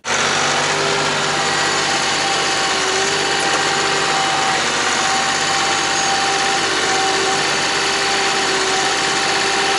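A Kioti tractor engine idles close by, a constant droning rumble with a faint high whine, unchanging and loud throughout with no talking.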